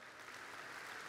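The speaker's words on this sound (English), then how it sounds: "Can we clap for Jesus this morning in the house of the Lord?" A brief burst of congregational clapping at a church service, dense and steady throughout the short moment.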